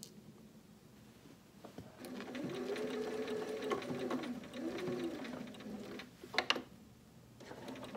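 A sewing machine stitching quilt appliqué runs in a steady mechanical whir with a rhythmic needle chatter, close and moderately loud, stopping briefly before a couple of clicks and resuming.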